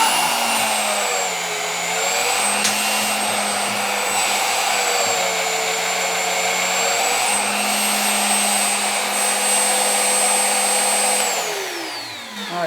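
A VEVOR ZT-45H 1450W magnetic drill whines steadily while cutting a hollow core through metal under heavy downward force, its pitch sagging under load and then winding down at the end, loud and close with no talk.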